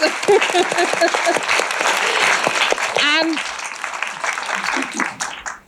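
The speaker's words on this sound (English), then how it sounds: "let's give applause to these amazing power women" Audience applause at a Microsoft Power Women event in Finland, a dense sustained clatter of many hands that gradually thins toward the end, with someone speaking over it.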